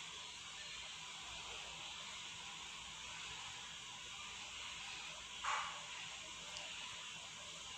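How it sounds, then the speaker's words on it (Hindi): Okra (bhindi) fries in hot oil in a home kitchen, giving a faint, steady, even sizzle with a single brief louder crackle partway through. "अब वो दूसरी भिंडी हम डालेंगे, इसको भी फ्राई कर लेंगे"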